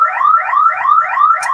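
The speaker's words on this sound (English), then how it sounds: "So excuse the car alarm." A car alarm wails close by and loud, its rising and falling electronic siren repeating steadily with no break, alone with no talk over it.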